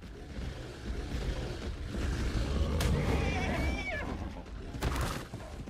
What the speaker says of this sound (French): Vous avez des chevaux là?